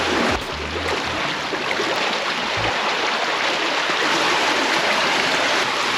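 Creek water rushing through an underground storm drain beneath a city, a loud, constant roaring flow echoing in the enclosed tunnel with a few low thumps near the start.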